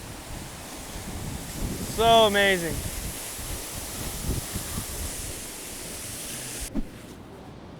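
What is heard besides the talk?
Ban Gioc Waterfall roaring, northeast Vietnam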